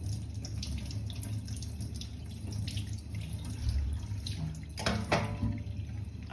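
A kitchen tap runs steadily while dishes are washed up during cooking, with a continuous close rush of water and a few clinks and splashes near the end.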